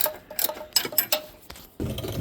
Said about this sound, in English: At least I have a ratcheting wrench.